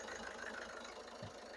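A 2019 Ford EcoSport Titanium sits idling just after a start, a quiet, steady low engine hum with an even rhythmic pulse and no voices over it.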